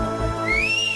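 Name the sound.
person whistling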